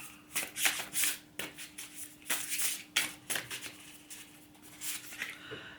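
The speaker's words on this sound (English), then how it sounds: "Right, shuffle the cards." Tarot cards riffle and slap together in quick repeated shuffles, crisp and close, with a soft hum underneath.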